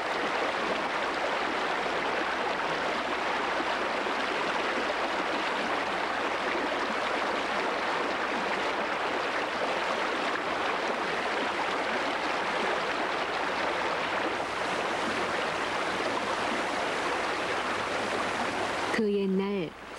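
Mountain stream in Chilseong-dong valley on Myohyangsan, North Korea, tumbling past a chain of twelve waterfalls; a steady, dense rush of flowing water fills the whole stretch, close and loud, with a brief tonal sound at the very end.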